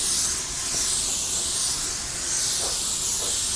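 A spray gun at 2 bar with the fan fully open lays a thin coat of clear onto a car panel, giving a close, continuous hiss that swells and eases slightly with each pass.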